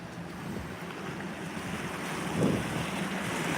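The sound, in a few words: ocean waves in an inlet during Hurricane Erin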